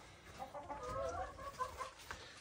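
Chickens clucking softly nearby in a farmyard, a short scattered run of quiet calls over low background noise.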